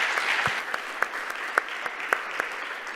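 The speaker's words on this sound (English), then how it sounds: "A round of applause to you" Applause after a student talk event, a moderate wash of clapping with a few sharper individual claps standing out at roughly regular intervals, fairly soft and distant, with no voices.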